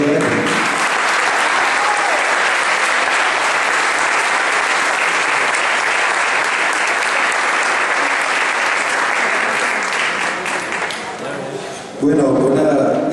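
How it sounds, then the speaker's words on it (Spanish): Sustained, dense audience applause at a fan meeting event rings out loudly for several seconds, then tapers off as a voice begins speaking at the end. "Vamos a darles a todos un gran aplauso a todos."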